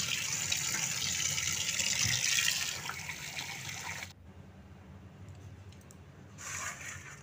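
Water running over cut potatoes being rinsed in a kitchen, a steady gushing splash for about four seconds, then a quieter pause before the flow resumes briefly at the end.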